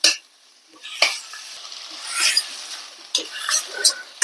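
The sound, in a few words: stirring mustard greens (sarson ka saag) in a pan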